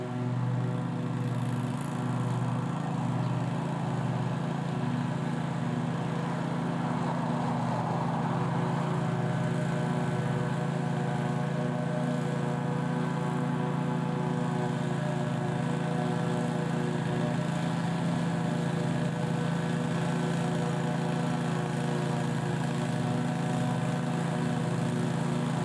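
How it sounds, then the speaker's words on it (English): Walk-behind lawn mower engine running steadily while being pushed up a steep hillside, a loud continuous drone close by with a faint rise in load partway through, no talk. "you can get the mower up there with a little extra work and pushing"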